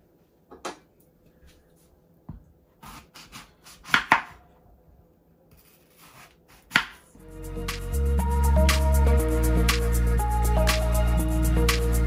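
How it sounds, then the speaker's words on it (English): Green apples being cut up with a knife for juicing: a few sharp, separate chops in a quiet kitchen, then a loud steady blender-like roar takes over for the rest. "the next bit I'll be cutting up are going to be some green apples"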